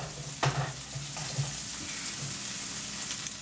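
Steak frying in oil in a pan, a steady quiet sizzle with a brief louder crackle near the start, heard alone.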